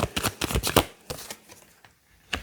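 A deck of tarot cards is shuffled close by, a rapid run of crisp riffling flicks and slaps that slows into a few scattered taps, then one last snap.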